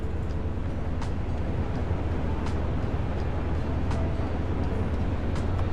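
A diesel electric train heads into a tunnel in Train Sim World 6. Its engine gives a steady, loud, low rumble, and sharp clicks from the track come at regular intervals throughout.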